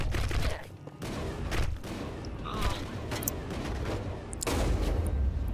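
Repeated shotgun blasts in the video game Mass Effect, loud sharp reports at uneven intervals over a steady rumble of combat noise.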